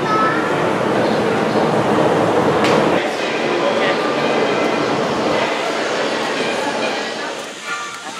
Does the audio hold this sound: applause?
no